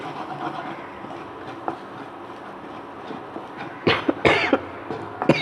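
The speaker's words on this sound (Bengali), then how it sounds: "ঝাঁঝে কাশি আসছে।" Several sharp coughs from a cook reacting to pungent spices, turmeric and salt frying in a pan. They come close and loud near the end over a steady low background hum.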